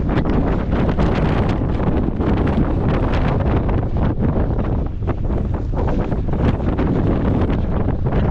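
Strong, steady wind buffets the microphone throughout a coastal run, a loud continuous broadband roar with gusty rustling and no voices.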